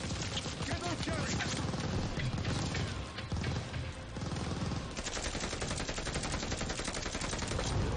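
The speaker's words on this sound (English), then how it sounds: "What's that machine gun?" Sustained bursts of machine gun fire from Call of Duty Vanguard ring out loud and dense, rapid shots rattling almost continuously with brief dips between volleys.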